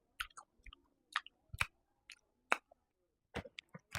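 Cool Ranch Doritos are chewed loudly up close, sharp crunchy bites in irregular bursts separated by short quiet gaps, with no talking.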